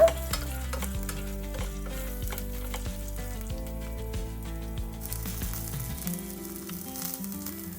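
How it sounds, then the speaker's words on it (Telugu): Tamarind and other chutney ingredients fry in a pan with a steady, close sizzle and stirring that runs the whole time beneath tonal background music. "కొంచెం చింతపండు వేసుకొని వీటిని ఫ్రై చేసుకోవాలి"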